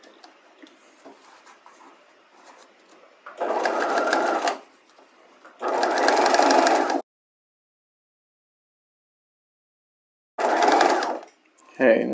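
A sewing machine stitches bias facing onto a bodice neckline in three loud, steady bursts of whirring, separated by pauses, with faint handling sounds and a quiet voice before the first run.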